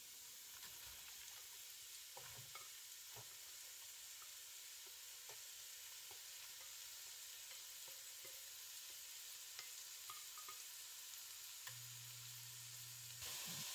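Onions sautéing in a pan on the stove for a South Sudanese vegetarian sukuma wiki dish: a steady, soft sizzle and hiss throughout, with occasional faint clinks and stirring sounds, no talking.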